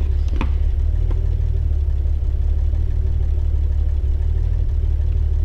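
A Porsche engine sound used in game development idles with a steady, loud low rumble and an even tone, with a single sharp click near the start.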